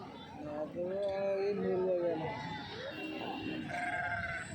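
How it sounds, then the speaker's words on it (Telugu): Sheep and lambs bleat repeatedly at close range at a sheep and goat market, wavering calls overlapping one another, with faint voices in the background. "చూద్దాము గొర్రెలు."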